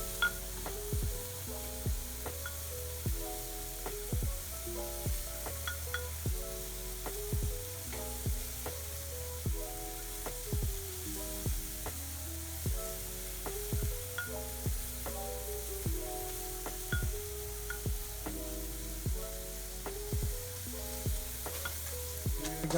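Skewered Manila street-food barbecue sizzles on a grill as it is basted and turned, a steady frying hiss with small crackles under prominent background music throughout.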